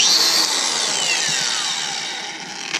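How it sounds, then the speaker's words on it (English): A Milwaukee M18 cordless 5 1/4 inch grinder runs loud and close, a high whine that slowly winds down across the clip, with no voices. "I'll show you my grinder real quick that I've got"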